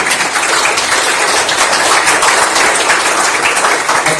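A seated audience at a science foundation event claps to welcome the chairman before his opening address, a dense, even wash of applause that holds steady and loud.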